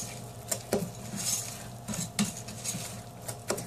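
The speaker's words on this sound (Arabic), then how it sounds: "اول شيء طبعا نخلط البيكنج سودا كده من فوق، ثم ندخلها بالمزيج" Baking soda being mixed into banana cupcake batter in a bowl, a spoon or whisk knocking and scraping the bowl in irregular clinks over soft stirring.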